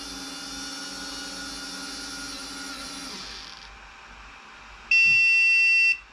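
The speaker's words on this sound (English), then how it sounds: "it's going to give me a nice loud beep to let me know that it's happy with where it is" A LaserPecker Pro laser engraver gives one loud, sustained electronic beep of about a second after auto-adjusting its height, following a quieter whirring hum of the machine that fades out.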